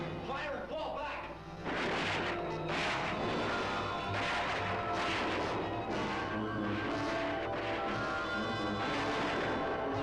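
Rapid gunfire and explosive blasts from a black-and-white sci-fi creature feature battle scene, a loud, dense, continuous barrage with shouted voices mixed underneath.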